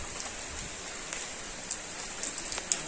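Rain falls steadily around a forested hillside temple site at Chinchghar village near Dapoli–Khed, making a continuous soft hiss with scattered sharper drop taps and no voices.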